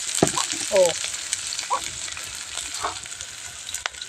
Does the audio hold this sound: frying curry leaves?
yes